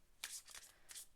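A quick tarot card shuffle, two soft riffling bursts close by, quiet and brief.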